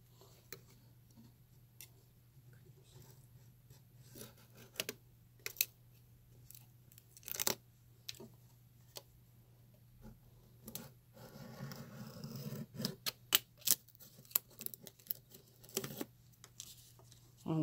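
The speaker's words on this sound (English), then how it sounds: "if you have flooring left over, what you can do is you can take a knife, a razor blade" A knife or razor blade cutting leftover dollhouse flooring, sparse sharp clicks and scraping snips that grow denser toward the end, over a low steady hum, with no one talking.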